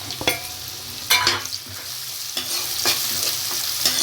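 Chopped onions hit hot oil and fry with a close, steady sizzle, broken by several scraping stirs of a spoon in the pan. No one speaks.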